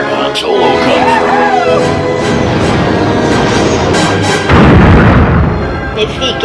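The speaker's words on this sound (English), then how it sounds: "big explosion!" A big explosion sound effect for a paper X-Wing play battle: a loud, roaring rumble that fills several seconds, surges again near the end, with voice-like wavering tones early on.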